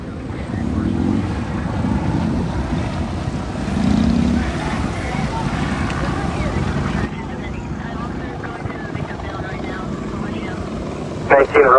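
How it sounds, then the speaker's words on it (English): Steady low rotor thrum of an LAPD helicopter circling overhead at a shooting scene, continuous and fairly loud, with a slight swell midway and faint voices mixed beneath. "shows an LAPD helicopter circling the scene"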